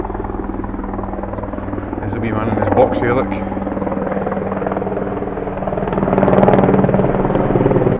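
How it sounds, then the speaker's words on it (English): Steady helicopter rotor drone throughout near an airport, swelling louder near the end, with someone talking over it. "A lot of plane and helicopter activity here near the airport, I take it."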